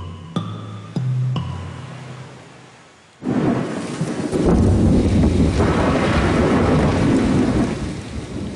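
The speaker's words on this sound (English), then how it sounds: "A violent storm is pummeling the island." A violent thunderstorm lashes an island: loud, dense rain pours steadily over a booming roll of thunder, with a few brief tonal sounds before the downpour swells and gusts buffet the microphone.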